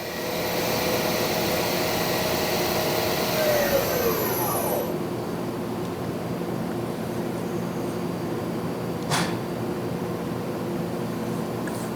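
A Doosan Puma 2600SY multi-axis CNC turning center with a 10-inch chuck, its spindle running at 2500 RPM, gives a loud steady whirring roar; a high whine sweeps down and fades partway through, leaving a broad constant rush.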